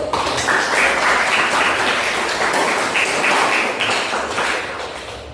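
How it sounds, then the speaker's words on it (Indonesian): Loud, dense clapping from a classroom full of people during a lesson, steady throughout and tapering slightly at the end. "Tepuk tangan itu."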